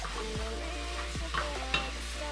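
Bacon cooking in its own rendered pork fat for a carbonara sizzles steadily in a pan, with a few short scraping stirs cutting through and a low hum underneath.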